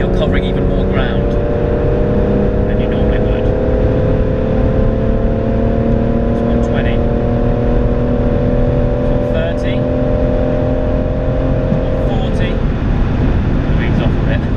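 A BMW M140i at high speed on the Autobahn, a loud steady engine tone rising in pitch under heavy road and wind roar, with someone talking over it.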